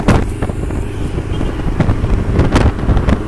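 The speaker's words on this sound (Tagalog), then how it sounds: "Ang lakas ng hangin. Pasalubong." Strong headwind buffets the microphone during a cycling race, gusty roaring bursts rising and falling over a loud, rough low rumble.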